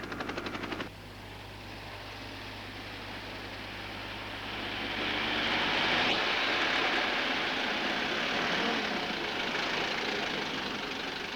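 A propeller plane's engine drones steadily as it approaches to land in a war setting, a broad roar that swells louder midway and holds, with a brief rattling burst at the very start.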